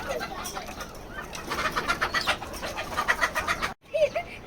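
Several native village chickens cluck and call in short bursts amid an outdoor yard, with brief higher calls near the end.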